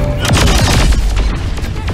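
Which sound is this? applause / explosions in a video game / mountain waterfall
explosions in a video game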